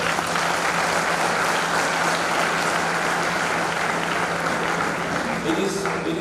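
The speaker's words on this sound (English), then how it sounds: "the proud parents deserve a big round of applause too" A large convocation audience at IIT (ISM) breaks into sustained applause, a dense, steady wash of many hands clapping that holds at even loudness throughout, with a faint low hum beneath.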